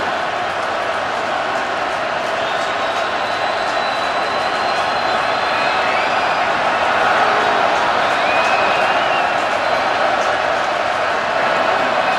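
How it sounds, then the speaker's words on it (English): A college football stadium crowd at a 2016 Portland State at Washington game roars as a steady, dense wash of noise throughout, with a slight swell partway through. "Crowd demanding defense."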